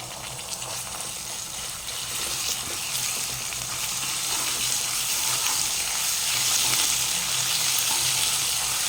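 Onions and ginger sizzle steadily in hot oil while cooking broiler chicken, a loud, continuous close-up frying hiss that swells slightly over time, with no talking.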